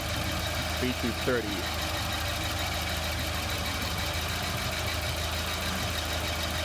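A Volvo 940 wagon's 2.3-litre four-cylinder B230 engine idles steadily with a low, even drone, close by, and someone talks over it.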